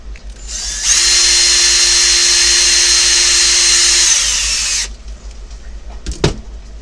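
A power drill whines loudly at close range as it drives a long screw into a Tekno EB48 RC buggy, a steady high-pitched spin lasting about four seconds before stopping, followed by a few clicks and handling noises.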